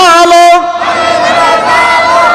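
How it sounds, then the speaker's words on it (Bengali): A lone voice calls out at an Islamic religious gathering, then a large crowd shouts the takbir, Allahu Akbar, together in one loud, close, sustained chant. "আমরা সবাই জোরে সোরে তাকবির দেব লিল্লাহে তাকবীর"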